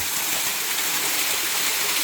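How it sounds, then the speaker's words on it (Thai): A forest waterfall in Kanchanaburi, Thailand, roars in a loud, steady, dense rush of falling water that fills the whole stretch without pause, heard close with no voices. "เดี๋ยวปิดท้ายด้วยน้ำตก"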